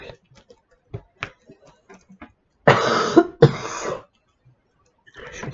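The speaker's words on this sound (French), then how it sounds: "Je vais encore tousser parce que je parle." A woman coughs twice in quick succession, harsh and close, amid soft scattered tapping and clicking from diamond painting work on a table.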